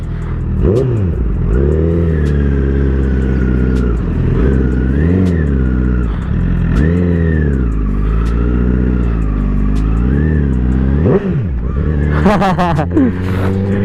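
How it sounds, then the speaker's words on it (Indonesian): A Honda CBR 1000cc motorcycle engine is revved repeatedly and loudly up close, its pitch rising and falling in a series of throttle blips. "kalau misalkan CBR 1000 itu emang enaknya ya geber gitu doang cuy"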